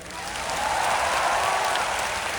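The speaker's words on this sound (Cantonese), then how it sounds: "希望大家都再次俾最大嘅掌聲" A large concert crowd at a LAVA live show gives sustained applause for the dancers, a broad, even roar of clapping and cheering that swells and holds, heard from within the arena.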